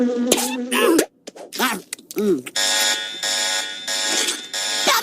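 A loud electronic alarm on a sandwich in the cartoon Teen Titans Go! buzzes in steady repeated bursts, preceded by brief animated voices and squeaky cartoon-like sounds.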